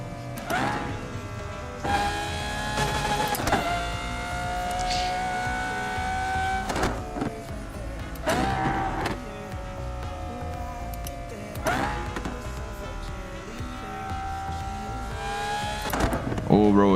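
A Porsche 911 Turbo driven fast on a road, its engine revving up and dropping between gear changes with several rising whines, heard from inside the cabin and fairly subdued.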